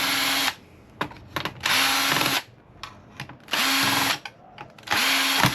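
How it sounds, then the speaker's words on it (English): Power drill backing screws out of a scrap PC case, four loud whirring bursts separated by pauses filled with small clicks and handling noises. "So I'll just undo a whole bunch of screws."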